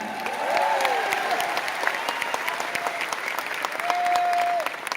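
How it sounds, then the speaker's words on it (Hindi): Audience applause at an Anupam Kher motivational program in Delhi, a steady wash of many hands clapping for the whole stretch, with a few tonal sounds poking through the crowd noise. "आपके लिए ये आत्मा से, दिल से ताली मार रहे हैं"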